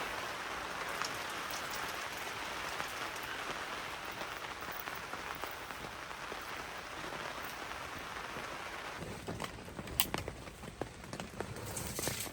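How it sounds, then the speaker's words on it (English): Heavy rain pours steadily and loudly on a truck tent for the whole stretch, a dense continuous hiss with a few sharper drips near the end. "It's going to be lots of rain noise"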